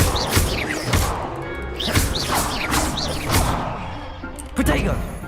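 Repeated Confringo blasting spell impacts in the video game Hogwarts Legacy, several heavy crashing thuds with whooshing bursts spread across a busy combat scene, heard under shouted voices.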